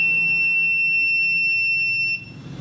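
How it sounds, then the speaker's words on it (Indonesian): Arduino-based SMS security system alarm sounding a continuous high-pitched electronic tone, loud and steady, that stops abruptly near the end, leaving a quieter background. "dan alarm bunyi."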